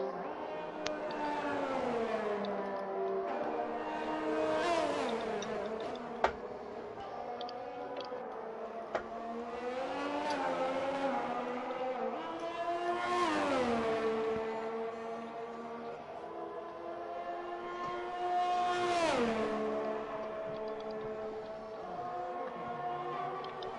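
A Red Bull race car in a video game laps the track, its engine note climbing through the gears in repeated rising sweeps, then dropping for corners, steady and fairly loud with no talk.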